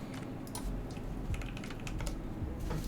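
Steady, rapid keystrokes on an acrylic Tofu65 mechanical keyboard, close and clear, with irregular clacks and occasional louder thocks as the spacebar or bigger keys land, and no talking.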